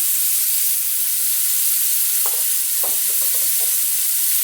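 A smashburger patty sizzles loudly on a hot griddle, a constant dense hiss up close, broken near the end by a few soft scrapes or taps.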